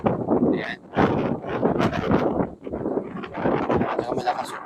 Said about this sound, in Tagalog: Saka malakas yung hangin.